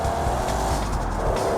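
A video-game car with a 16.1-litre engine in Automation pulls away hard, a dense, loud engine roar with a rising growl filling the short burst, steady and close throughout.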